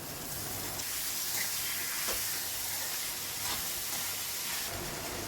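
Chopped tomatoes dropped onto softened onions in a hot pan for vegetable dum biryani, giving a steady soft sizzle and hiss with faint stirring scrapes, quiet and close, no voices.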